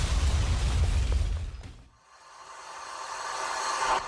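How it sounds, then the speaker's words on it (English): A muffled burst of video game explosions in Tom Clancy's EndWar Online drops into near silence, then a rising whooshing swell builds and brightens, close and fairly loud, with no voices. "And of course, there will be explosions."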